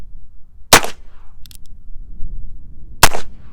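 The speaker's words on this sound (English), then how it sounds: "Let's just take a couple of shots here with it." Two loud, sharp shots from a Heritage Barkeep revolver, a couple of seconds apart, each a crisp crack with a short ringing tail over quiet background.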